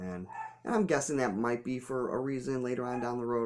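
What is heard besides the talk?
dog barking in the background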